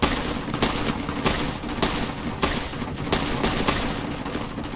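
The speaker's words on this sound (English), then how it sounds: "That's a whole lot of gunfire." Gunfire in the Fallout: New Vegas video game, a dense continuous barrage of rapid shots and sharp cracks over a rumbling background, steady and fairly loud throughout with no talk.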